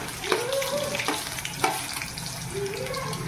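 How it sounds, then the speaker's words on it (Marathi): Potatoes fry in a pan for a mixed vegetable bhaji, a steady close sizzle with occasional stirring scrapes and soft clinks of a utensil. "आता आपल्याला बटाटे फ्राय करायचे आहे."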